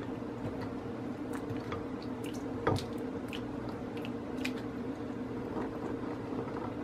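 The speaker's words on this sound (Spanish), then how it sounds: "Vamos a revolverlo." A spoon stirs a shrimp cocktail mixture of shrimp and ketchup, giving close, wet squishing and light dripping with one sharper clink, steady throughout without talk.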